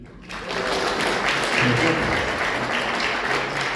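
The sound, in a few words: audience applause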